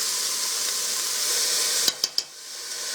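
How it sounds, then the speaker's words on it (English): Minced garlic sautés in a pan for a macaroni and cheese soup, giving a steady, even sizzling hiss that runs throughout, broken near the end by a few short sharp clicks of a utensil. "And we're going to saute this for about 3 to 5 minutes."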